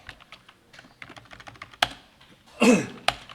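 Someone types on a computer keyboard in short bursts of light, rapid clicks, closing with a few louder, sharper key strikes, heard up close and alone.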